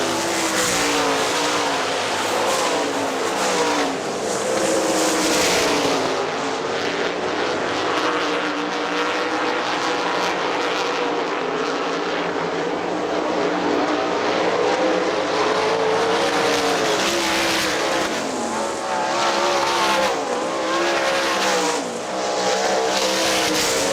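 Great Lakes Outlaw Sprint Series sprint cars race at Hartford Speedway Park, a loud continuous engine roar from a passing pack that swells and fades as cars sweep by, filling the whole stretch without speech.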